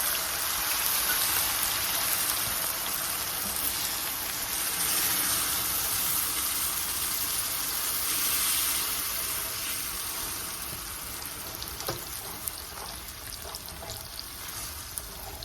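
A breakfast mixture with half and half caramelizes in a hot pan, giving a continuous soft sizzle and crackle that eases slightly as the heat drops, with no talking.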